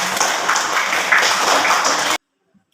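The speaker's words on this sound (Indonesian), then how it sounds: "Tepuk tangan dulu untuk teman kalian bertiga" Classroom applause for three students: dense, steady clapping from a group of pupils, fairly close and loud, running for about two seconds before stopping abruptly into silence.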